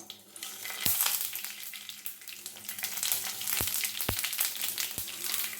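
Dried red chillies and mustard seeds fry in hot oil for a hotel-style sambar tempering, a dense close sizzle with scattered sharp pops and crackles and no talking.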